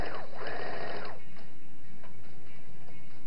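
Sewing machine stitching fabric, a close mechanical whirring and clattering with a brief faster burst at the start, continuing steadily throughout.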